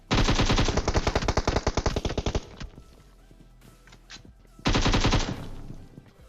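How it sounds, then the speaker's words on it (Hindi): An M4 rifle rattles off two long, rapid automatic bursts in PUBG, loud and close, separated by a quieter stretch of faint rustling and distant shots. "साइड से कोई M4 पटका देता है।"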